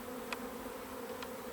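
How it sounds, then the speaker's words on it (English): Honey bees swarm thickly around the outside of an overcrowded beehive, a steady, close, droning buzz that holds evenly throughout, with a couple of brief faint clicks. "you should see the bees on the outside of this hive"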